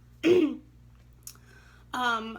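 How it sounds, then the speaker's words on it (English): A single throat-clearing cough close to the microphone, then a short pause before a voice starts speaking. "Excuse me, I have a cough."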